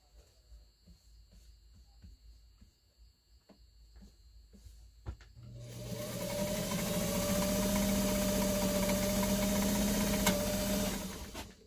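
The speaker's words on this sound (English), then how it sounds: "So if you watch the needle, you see that it changes the zigzag while you're sewing." A White 305 vintage sewing machine sewing a zigzag stitch. Faint ticking comes first, then the motor whirs up into a steady, fairly loud running hum that holds for several seconds and stops at the end.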